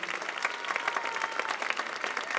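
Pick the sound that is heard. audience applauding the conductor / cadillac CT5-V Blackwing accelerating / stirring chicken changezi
audience applauding the conductor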